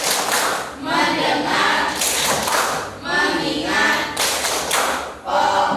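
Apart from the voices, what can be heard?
rhythmic classroom clapping, the 'tepuk fokus' clap chant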